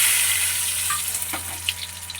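Dry red chillies, black cumin and cumin seeds tempering in hot mustard oil in a kadai, a steady close hiss and sizzle with faint crackles and pops scattered throughout.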